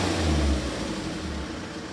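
A car engine revs under acceleration during a temperature sensor diagnosis, rising to a strong low roar and then easing back to a steady hum, heard close with no talk.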